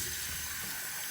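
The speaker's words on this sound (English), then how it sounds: "A little hot water." Hot water runs from a tap into an artisan shaving bowl, a steady close hiss of flowing water heard alone for about a second.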